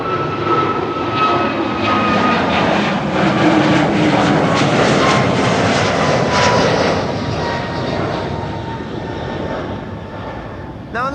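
Jet engines of an Etihad Airbus A321 at Amsterdam Schiphol Airport, a loud, steady roar that holds for the whole stretch with a faint rising whine above it, no voices.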